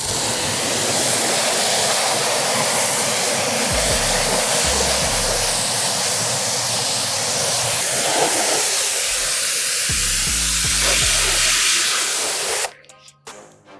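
A pressure-washer spray blasts dirt off dirt bike boots in a loud, steady hissing rush that runs nearly unbroken for about twelve seconds before cutting off abruptly.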